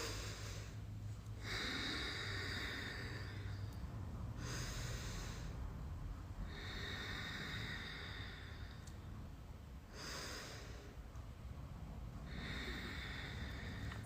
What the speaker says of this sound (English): you're just going to take like 3 deep breaths